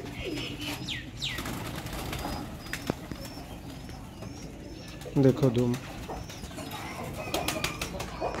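Teddy pigeons kept by a breeder in Sialkot coo softly in the background and give a brief burst of wing flapping midway, while someone talks intermittently over them.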